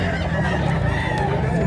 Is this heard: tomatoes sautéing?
no